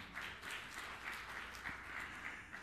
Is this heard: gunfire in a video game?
no